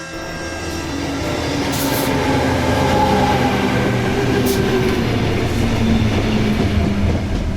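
A commuter train rolls along the tracks in Sydney's outer western suburbs at night, a loud steady rumble rising at the start, with rhythmic wheel clatter and brief high squeals.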